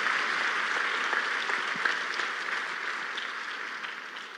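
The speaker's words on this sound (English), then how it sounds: "Please keep clapping until she gets here." An audience claps steadily for Kenya's First Lady, Mama Rachel Ruto, arriving at a tribute event for Bishop Kiuna, a dense, even wash of applause held at constant loudness throughout with no voices over it.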